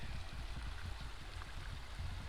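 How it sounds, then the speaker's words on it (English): Water in a rocky stream in Savage Gulf, Tennessee, flows and disappears underground, giving a steady, soft rushing gurgle with no voices over it. "Water apparently goes under the ground here."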